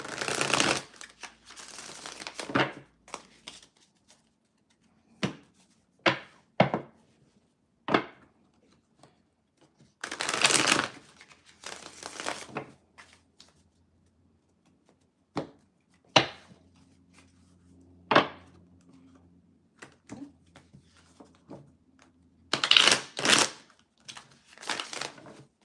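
Tarot cards being shuffled by hand in repeated short bursts of riffling and sliding, loud and close, separated by quiet pauses, with no talk over them.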